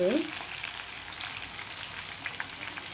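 Small meal maker pakoda pieces dropped into hot oil set up a brief splash and then a dense, steady frying sizzle that stays close and even for several seconds, with no voices.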